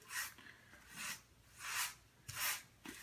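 Grout is spread and rubbed into the joints of wood-look tile, producing soft, repeated scraping sweeps at a steady rhythm, close and fairly quiet.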